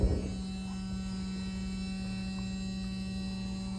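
A motorcycle ABS module running its brake bleed test after a complete rebuild gives off a constant, even electric hum that starts with a brief click and holds steady throughout.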